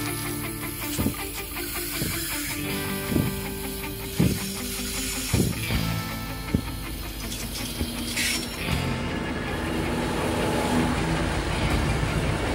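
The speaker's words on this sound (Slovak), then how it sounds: "3 hodiny sme čakali vlak, tu je" A train passes on railway tracks near Vorkuta, its wheels striking rail joints in a steady rhythmic clatter of heavy thumps, loud and close, followed by a broad rushing roar as the cars roll by.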